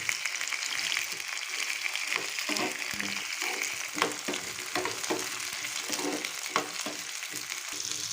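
Green chilies, a dried red chili and curry leaves frying in a pan with onions for peanut chutney, giving a loud continuous sizzle with scraping stir strokes throughout.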